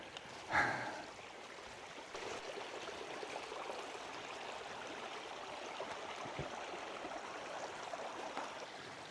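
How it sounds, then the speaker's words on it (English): A creek running over a flooded hiking trail gives a steady, close wash of flowing water, with a brief louder splash near the start and then an even murmur to the end. "this creek, stream, whatever you want to call it, it's more of a creek to me now"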